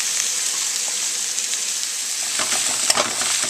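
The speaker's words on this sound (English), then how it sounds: "you're going to put it in the frying pan with the meat" Chopped onion and meat fry in a pan with a continuous bright sizzle, up close and steady, with a few louder crackles and spatters near the end and no voices.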